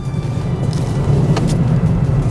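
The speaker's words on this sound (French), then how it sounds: "Donc là, nous allons effectuer du drift. Le DBX est sur glace." An Aston Martin DBX 707 drifts on ice with a steady, close engine rumble. Brief brighter scrapes and hiss cut through the drone as the car slides.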